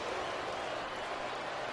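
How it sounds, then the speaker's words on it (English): A football stadium crowd at a 2008 Patriots at Chargers game boos in a steady, distant roar that stays even and fairly faint throughout, with no clear voices standing out. "Then the fans start booing again."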